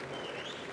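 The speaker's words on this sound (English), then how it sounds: "enjoying a little bit of applause from everybody" Applause from members of the US Congress in the House chamber during a State of the Union address, a steady dense wash of clapping at moderate distance, continuous through the brief moment with no voices standing out.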